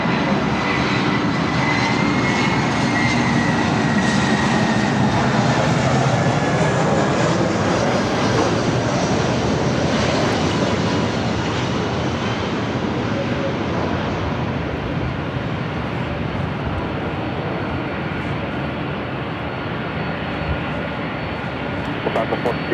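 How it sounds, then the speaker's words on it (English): Lufthansa Boeing 747-8 Intercontinental taking off from Los Angeles airport, a loud sustained jet roar that builds and slowly fades as the heavy airliner climbs away, with a voice talking over it. "This is Lufthansa Flight 457 taking off to Frankfurt on the 747-8 Intercontinental."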